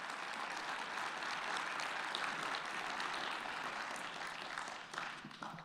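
Audience applause honoring the 2023 Trinity Prize educators, a sustained even wash of many hands clapping at moderate distance that softens slightly near the end.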